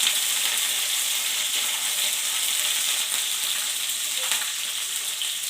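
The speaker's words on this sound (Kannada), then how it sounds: "ನೋಡಿ, ಹೀಗೆ ಫ್ರೈ ಮಾಡ್ಕೋಬೇಕು." Green chillies and curry leaves fry in a pan with a steady, loud sizzle that runs unbroken throughout, with no talking.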